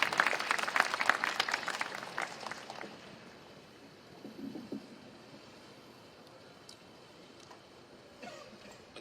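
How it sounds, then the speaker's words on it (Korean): Applause from an audience at a Korea University student rally, where business students protest the election commission over a ballot paper shortage. The clapping is strong for about three seconds, then fades to scattered claps and outdoor background noise. "큰 박수 부탁드립니다."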